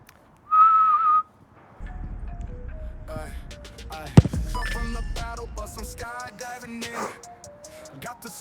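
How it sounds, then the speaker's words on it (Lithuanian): A referee's whistle sounds before a football penalty kick: one short, steady, high blast, followed by a mix of background sounds and game noise. "Švilpukas bus."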